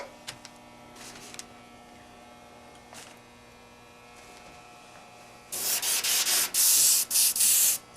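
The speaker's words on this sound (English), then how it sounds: "Before I start spraying, I always come over to the edge, test it, make sure I don't got any leftover paint sitting in there" Airbrush-style paint spray gun fired in test bursts at the edge of a surface while doing a beveled edge: quiet hum and light rubbing, then about five short hissing sprays in a row, loud and close.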